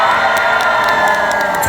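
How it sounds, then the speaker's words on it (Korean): A large crowd at an outdoor concert at a green tea expo cheers and shouts loudly and without pause, with a few clapping hands mixed in. "한 번 더 박수와 함성!"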